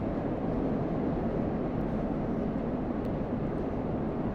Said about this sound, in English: We're at about as much throttle as you can give it without going into afterburner